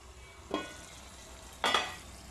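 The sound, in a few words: stirring chicken curry with tomatoes in a pan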